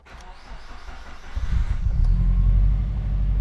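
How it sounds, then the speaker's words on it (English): A car engine cranks and catches, a low rumble rising and settling into a steady idle close by, with background noise throughout. "If we start the car, I'll show you exactly what I mean."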